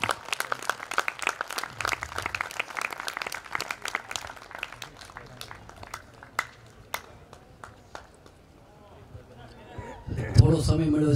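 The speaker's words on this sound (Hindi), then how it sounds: "तो एक बार जोरदार तालियों के साथ सोम भाई का स्वागत" An audience claps and applauds to welcome a speaker at an indoor session in Palitana, Gujarat, a dense burst of clapping that thins into scattered claps before a louder noise near the end.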